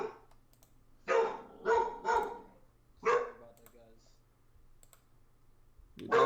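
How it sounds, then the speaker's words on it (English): A dog barks angrily indoors near a computer setup: several loud, sharp barks come in a quick cluster, then after a pause another bark, and a final one at the end, with soft keyboard clicking underneath. "dog's angry, bro."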